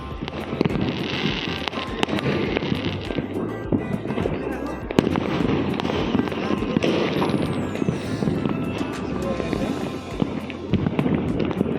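New Year's Eve fireworks burst repeatedly around a rooftop, sharp cracks and rumbling booms at irregular intervals over crowd noise and wind, with people talking throughout.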